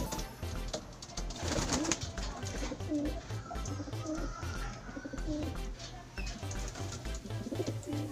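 Pigeons coo softly and repeatedly at close range, low rolling calls continuing throughout amid light background rustle and faint ambient noise.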